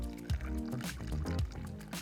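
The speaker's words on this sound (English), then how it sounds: "Pour it into our glass." A Paloma cocktail of tequila and mix is poured from a shaker into a glass, making a close splashing, gurgling trickle, while a person talks over it.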